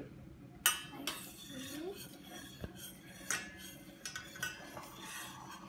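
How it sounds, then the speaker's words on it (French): Homemade candy mixture stirred with a spoon in a bowl, faint scraping with scattered light clinks and knocks of metal against the dish, close and quiet. "Et donc là, tu peux mélanger un petit peu."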